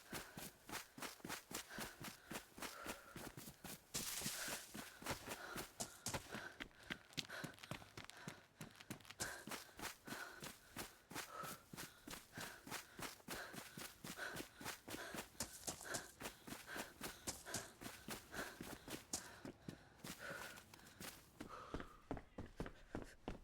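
Steady, rhythmic footsteps of a character moving across the ground in the survival video game DayZ, a continuous run of close, even crunching steps throughout with no talking.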